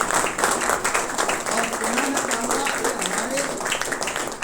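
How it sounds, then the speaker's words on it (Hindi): An audience at a business recognition event claps for an honoree in a dense, steady burst of applause that fills the room, with a voice speaking over the clapping. "एक बार जोरदार तालियां गिरीश रजवार"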